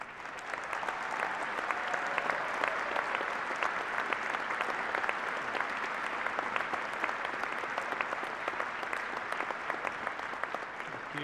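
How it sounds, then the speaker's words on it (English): Audience applause at a fall 2021 university commencement at SIUC carries on for about eleven seconds as a broad, sustained roar of clapping hands, steady and unbroken, with no talking. "could you give them a warm round of applause?"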